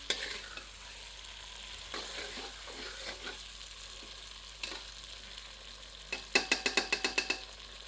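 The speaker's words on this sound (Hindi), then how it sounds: "बीच बीच में करछी चलाते रहते हैं" Chicken anardana, a Himachali pahadi dish with pomegranate seeds, stirred with a ladle in a pan over low heat: scattered scraping strokes over a soft sizzle, ending in a quick run of sharp rhythmic metal taps against the pot.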